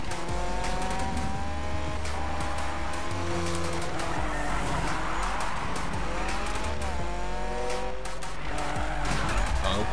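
A Mazda MX-5 (1996) drifting in Need For Speed 2015, its engine roaring loud and continuous while the tires squeal in long wailing sweeps that rise and fall through the slides.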